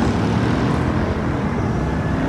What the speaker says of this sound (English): They got the helicopter up there and everything.